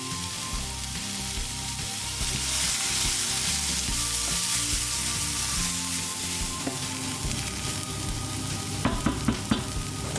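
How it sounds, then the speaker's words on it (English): Steady sizzling and crackling of onions browning in a teaspoon of olive oil in a pan, close up, with occasional stirring clatter and no talking. "we are going to brown our onions until they're nice and golden browny goodness in a teaspoon of olive oil"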